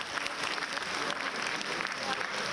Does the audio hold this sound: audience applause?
yes